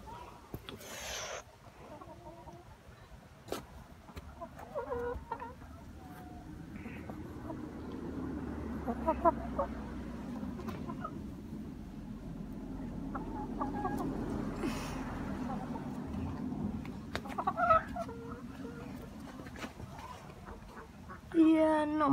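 Chickens cluck and call inside a coop being mucked out, with scattered bird calls over a steady low rumble and scraping, a person speaking briefly near the start.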